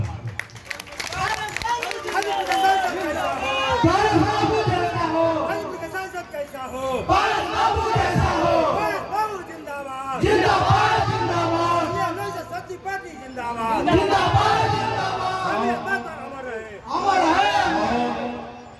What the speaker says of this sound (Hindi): आज ये अपार भीड़ है